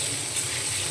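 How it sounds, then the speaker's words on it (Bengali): Salted potato pieces fry in oil left over from frying pointed gourd, making a continuous close hiss and crackle with a faint rhythmic mechanical pulse underneath and no talking. "পটল ভেজে নেওয়া তেলের মধ্যেই আমি আলুগুলো দিয়ে দেব, একইভাবে ভেজে নেব"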